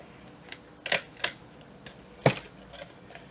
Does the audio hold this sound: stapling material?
yes